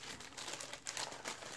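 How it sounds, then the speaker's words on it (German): A plastic surprise bag of small trinkets crinkles as it is handled, a soft, close rustling lasting a moment with a few sharper crackles, no voices. "eine Tüte, eine Überraschungstüte mit Kleinkram"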